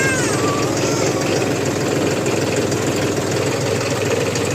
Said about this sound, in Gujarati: ટ્રેક્ટરના વાઇબ્રેશનના હિસાબે અવાજ કરી રહ્યા છે.